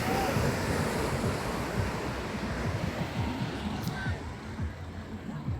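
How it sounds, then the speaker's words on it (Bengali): Ocean waves break on the beach at Kolatoli, Cox's Bazar, a continuous rushing wash of surf with wind buffeting the microphone, moderately loud and steady with no clear speech. "এত সুন্দর ঢেউ মারছে দেখছি।"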